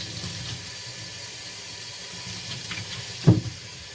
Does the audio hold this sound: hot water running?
yes